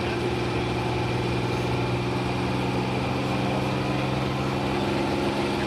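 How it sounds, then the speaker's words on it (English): A pulling tractor's engine with a single turbocharger runs at steady high revs, a dense continuous roar with layered harmonic drone held throughout, loud and unbroken with no voices over it. "Once that engine gets wound up really high, we'll have a lot of black smoke come out of that exhaust pipe."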